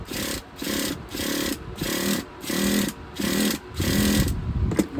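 A Traxxas 4tec nitro RC car engine being pull-started, with about nine repeated rhythmic rasping pulls, each roughly half a second long, close and fairly loud, no engine catching.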